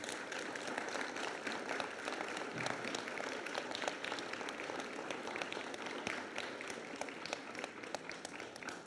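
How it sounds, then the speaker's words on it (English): An audience at an 8th grade bridging ceremony claps continuously, a dense wash of applause that holds steady throughout without pause. "share a round of applause for this incredible support"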